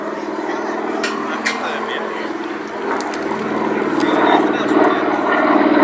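A T6 Texan, also called the Harvard, a propeller trainer aircraft flying at the Shuttleworth Fly Navy airshow, its engine drone holding steady and swelling louder toward the end under outdoor crowd and commentary noise.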